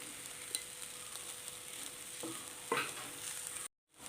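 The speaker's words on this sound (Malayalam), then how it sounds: "നന്നായിട്ടൊന്ന് മിക്സ് ചെയ്തെടുക്കാം" Jackfruit fiber thoran with black pepper powder being stirred in a hot pan, giving a steady soft sizzle broken by a couple of brisk scraping strokes before the sound cuts out abruptly.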